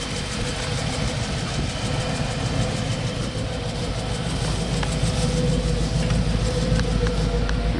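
A 1956 DeSoto Fireflite engine rumbles steadily on a ride, heard from inside the car as a loud, continuous drone blended with road noise.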